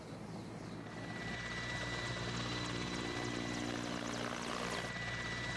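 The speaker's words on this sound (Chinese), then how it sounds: "战机轰鸣，铁翼飞旋" A military helicopter climbs during parachute training at an airfield, its rotor thumping steadily under a loud continuous engine roar.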